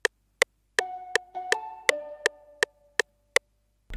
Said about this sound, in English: I then added this mallet from